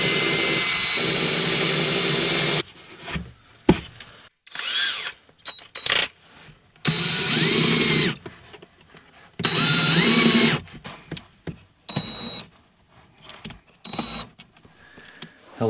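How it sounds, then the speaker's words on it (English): An electric drill makes holes in a van in repeated bursts of a few seconds each, a loud close whirring whine separated by short quiet gaps and clicks. "Gotta go get a drill bit to make some holes. Hopefully, yeah, the drill does fit here."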